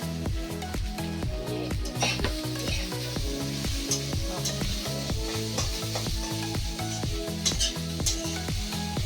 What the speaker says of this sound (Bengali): মার আর আমার জন্য হচ্ছে দুপুরের জন্য সাবু ভেজে নিচ্ছে